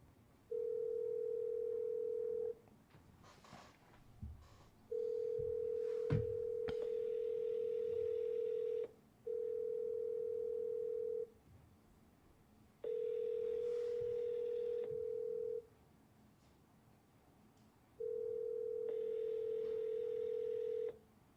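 A telephone call that fails to go through: repeated steady tones of a few seconds each, separated by short gaps, with some faint background clatter between them.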